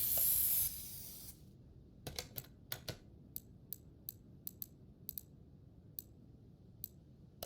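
A loud burst of spray paint hisses onto car suspension uppers in Car Mechanic Simulator 2021, then cuts off into a steady series of sharp, evenly spaced game clicks, with no talking.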